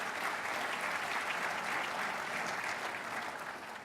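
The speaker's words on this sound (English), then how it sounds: "Another round of applause for Joel." An audience at a county executive's State of the County address applauds for Joel, a steady, dense wash of clapping from a large crowd that holds evenly, then begins to fade near the end.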